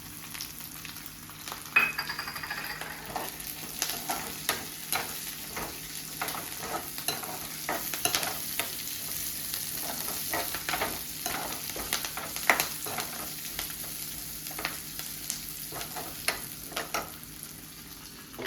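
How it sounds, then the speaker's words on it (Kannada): Cumin seeds fry in hot oil in a pan, giving a steady close sizzle with scattered crackles and occasional stirring scrapes, with no talking. "ಇವಾಗ ಜೀರಿಗೆ ಹಾಕ್ತೀನಿ, ಯಾಕಂದರೆ ಜೀರಿಗೆ ಮುಂಚೆನೇ ಹಾಕಿದ್ರೆ ಅದು ಫುಲ್ ಸೀದು ಹೋಗುತ್ತೆ"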